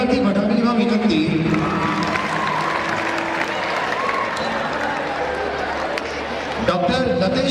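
A large audience claps steadily at a school annual function in welcome of guests, the applause a dense, continuous wash of hand claps that holds under a speaker's voice at fairly close range.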